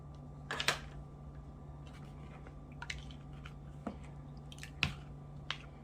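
Ground cinnamon and nutmeg are stirred into peach pie filling, giving soft, wet squishes and occasional sharper spoon clicks at irregular intervals over a low, steady background hum.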